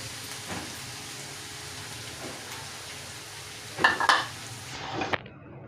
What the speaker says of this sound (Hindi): ये देखिए 2 मिनट हमने हाई फ्लेम पे इसको फ्राई कर लिया, सब्जियों को हल्का सा कलर इसको दे लिया।